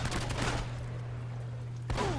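Gunfire in Uncharted: Drake's Fortune: a dense burst of shots opens the moment, gives way to a steady low game hum, then another burst of fire returns near the end.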